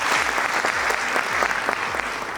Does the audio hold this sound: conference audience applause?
yes